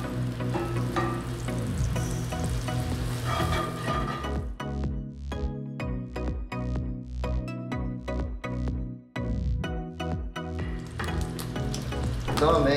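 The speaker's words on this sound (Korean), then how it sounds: "자, 번을 먼저 구워보겠습니다." Burger buns frying on a pan in canola oil with a little butter, heard as a steady, close sizzle with some irregular crackling and brief stirring or shifting sounds throughout.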